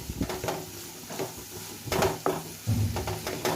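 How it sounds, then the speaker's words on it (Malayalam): A large onion fries in a pan for an egg gravy, with a faint sizzle beneath repeated scraping and clattering strokes of a spoon stirring against the metal, close up and intermittent. "ഞാൻ ഇപ്പോൾ ഇവിടെ ഒരു വലിയ ഉള്ളിയാണ് എടുത്തത്. ഇതൊന്ന് നന്നായിട്ട് ഇളക്കിയെടുക്കുക."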